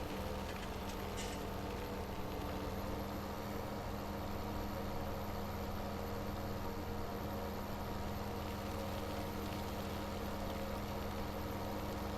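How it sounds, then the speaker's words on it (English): A farm tractor idles steadily, a low engine drone with a faint mechanical hum that holds even and unbroken throughout, with no talking over it. "It's a nice sounding tractor."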